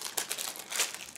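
Plastic bag holding hull panels from a 1/700 scale Kajika Kongo battlecruiser model kit crinkles as parts are handled, with quick, close crackling bursts in an irregular rhythm, fairly soft and with no talk.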